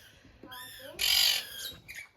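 Parakeets at a bird park in Ballarat, Australia, give close, harsh squawks and warbling calls back and forth, with one loud burst in the middle and a quiet voice faintly underneath.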